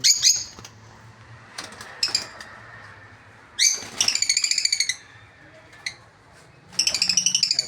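Pet lovebirds give bursts of high, warbling chirps and trills close by, with short quiet gaps and a few soft rustles between the calls.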